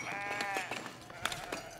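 Lambs in the Foundation building game bleat in a quick chorus, overlapping high wavering cries from several nearby young sheep, no voices.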